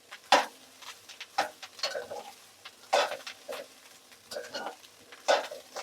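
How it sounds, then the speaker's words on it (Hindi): Rice being stirred in a pan for restaurant-style veg fried rice, with irregular scraping and clinking strokes over a light sizzle, close and fairly loud. "बाकी अपने चावल डाल के हम इसे अच्छी तरह मिक्स कर लेंगे।"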